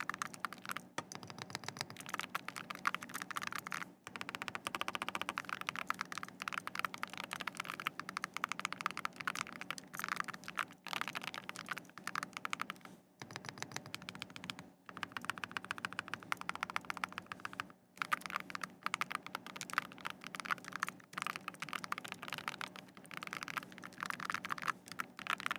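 Someone types on a loud, clacky custom mechanical keyboard, producing a steady run of rapid key clacks with brief pauses, fairly faint and heard alone.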